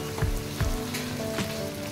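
Four large onions, thinly sliced, fry in very hot mustard oil for biryani. Soft continuous sizzling runs throughout, with a few sharper crackles and pops spaced apart and no talking.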